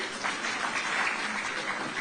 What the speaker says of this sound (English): I think we can clap for Nigeria